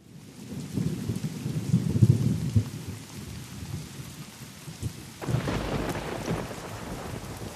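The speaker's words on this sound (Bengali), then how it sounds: "সেদিন মুষলধারে বৃষ্টি নেমেছে বাইরে।" Heavy rain pours steadily while thunder rumbles low and loud, with a fresh burst of rain and rolling thunder about two thirds through, used as a storm sound effect in a narrated story.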